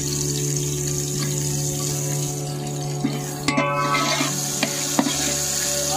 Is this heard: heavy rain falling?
no